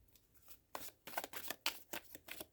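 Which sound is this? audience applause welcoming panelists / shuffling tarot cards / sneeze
shuffling tarot cards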